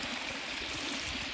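A mountain stream rushes down from above toward a hidden waterfall, a loud, steady broadband roar of flowing water close by, with no talking.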